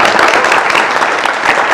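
Steady applause from a concert audience fills the space, many hands clapping continuously and loudly throughout.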